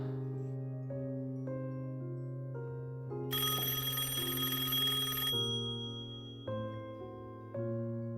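A telephone bell rings repeatedly, loud and close, in several bursts with a harsh bright middle section over a steady electronic tone, no voices.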